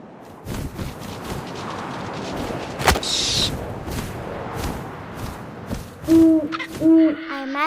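Owl hooting inside the video game What Remains of Edith Finch, two loud, low hoots near the end following wind ambience, grass rustling and a sharp thump earlier on.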